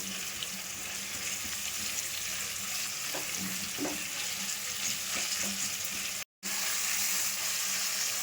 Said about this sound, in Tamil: ஒரு 2 நிமிஷம் வதக்கலாம்.